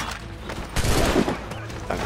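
Gunshots in Assassin's Creed IV Black Flag combat, a short cluster of cracks and crashing impacts amid battle noise.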